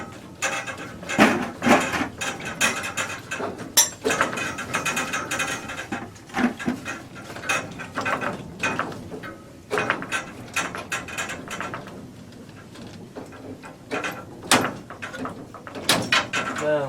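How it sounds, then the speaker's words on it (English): A screwdriver turning a screw during a basement sink installation, producing repeated close ratcheting clicks and creaks in uneven bursts, with a person talking at times in between. "I got the screwdriver there."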